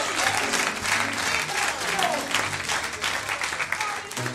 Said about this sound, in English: Clap your hands and give God praise one more time.